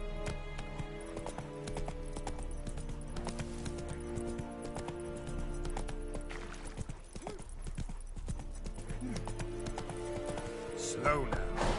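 Horse hooves clip-clop steadily in The Witcher 3 as a horse is ridden along, a rhythmic trotting beat over game music and ambience, with voices talking over it.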